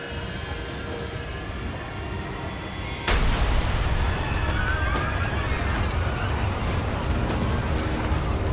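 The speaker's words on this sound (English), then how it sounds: "there was this loud explosion" A loud explosion aboard a passenger plane climbing through 23,000 feet during rapid decompression, a sudden blast breaking over a steady cabin drone and followed by a continuous roaring rush of air.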